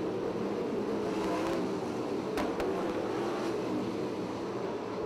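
Race cars circle Ocean Speedway in heavy lap traffic, a steady, distant engine drone with a couple of brief sharper bursts, no talk.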